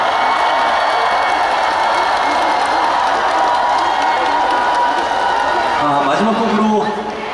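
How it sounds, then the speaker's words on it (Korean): A large festival crowd at the Daejeon 0 o'clock Festival cheers and applauds loudly and continuously, with whoops and shouts blended into a dense roar that tapers off only in the final moment. "이분들에게도 한번 큰 박수 보내주시면 정말 감사할 것 같습니다"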